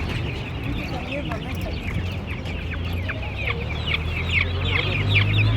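Chickens cluck and chatter continuously at a busy poultry market in Tanta, close and fairly loud, with market voices mixed into the background.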